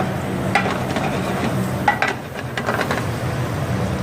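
Whole butter sizzles in a pan over lowered heat, a moderate steady frying hiss with a few light scrapes and clinks of a utensil, and no voices.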